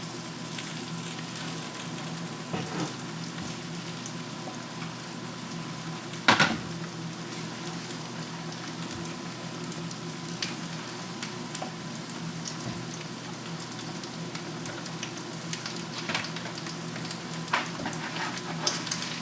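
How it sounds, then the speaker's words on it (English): An egg frying in a pan, a steady, soft crackling sizzle that runs evenly throughout with an occasional louder pop or clatter. "it takes 8 minutes to fry a well-done egg."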